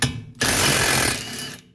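Wrench, likely an impact tool, spinning out the 19 mm brake caliper bolts on a 1985 Mercedes 300D, a loud, close mechanical rattling burst lasting about a second after a brief pause.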